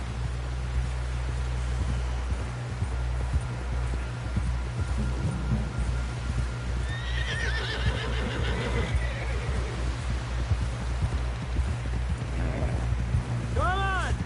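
A horse in the Red Dead Redemption 2 video game gallops with rapid hoofbeats and neighs loudly near the end, over outdoor ambience, with voices talking in the game.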